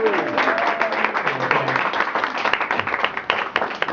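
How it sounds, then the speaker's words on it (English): Scattered clapping from wedding guests honoring the bride's parents, uneven and moderately close, mixed with some voices. "So please, everyone, a round of applause for her parents."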